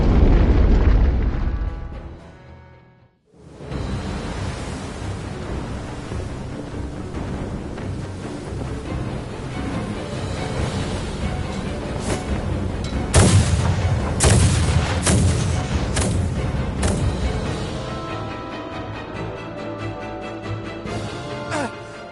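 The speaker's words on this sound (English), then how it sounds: "We are taking massive fire from the Empire's naval battalion. Their unceasing bombardment is laying waste to our forces." Heavy artillery bombardment rumbles in the Star Ocean: Divine Force video game, a continuous roar of booming explosions with sharper blasts bursting through, loud and sustained after a brief silent gap.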